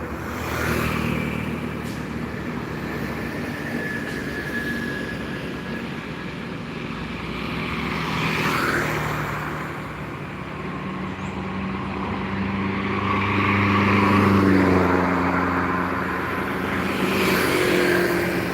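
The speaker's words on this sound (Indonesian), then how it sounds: "Ada cuma truk-truk satu-satu yang melintas loh, yang baru datang dari Pulau Jawa." Heavy vehicles rumble past one at a time; the engine noise swells as each approaches and fades away, with no talking.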